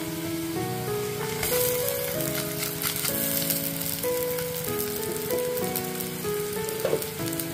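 Gobindobhog rice coated in ghee frying with browned onions in a pan, giving a steady, dense sizzle and crackle that runs continuously beneath a prominent layer of background music.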